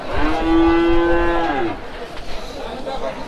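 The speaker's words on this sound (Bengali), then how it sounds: "এই যে একটা গরু আসছে" A single long, loud cow moo at a village cattle market, a low drawn-out bellow lasting over a second, then faint background murmur and shuffling.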